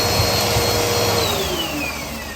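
Vacuum cleaner running steadily up close while cleaning drywall debris during a wall repair, a loud continuous whine and roar with no talk over it.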